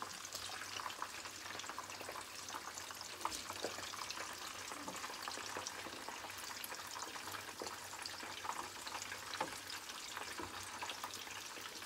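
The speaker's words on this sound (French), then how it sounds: "Sur le pouce parce que j'en ai encore à faire frire." Yuba-wrapped spring rolls sizzle in hot oil, a steady, dense crackle and hiss that runs without pause, close and fairly quiet.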